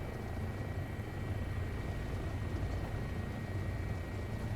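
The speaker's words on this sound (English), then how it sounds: "I'm getting a sound effect from the gearbox that suggests" Simulated Bo 105 helicopter in MSFS 2024 during a hard deceleration, its rotor and gearbox giving a steady, dense whirring drone with a faint high whine, constant and close throughout with no talk.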